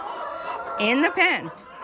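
Chickens on a poultry farm in Ghana cluck and squawk in agitation, rising to a loud burst of alarm calls in the middle before settling back.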